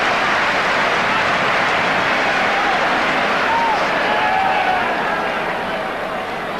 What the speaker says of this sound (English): Crowd applauding.